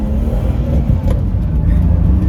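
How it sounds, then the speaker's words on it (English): A loud, rowdy BMW E36 drift car drones along on the road, its engine a steady low rumble heard from inside the cabin without any spoken voice. "This car is very rowdy,"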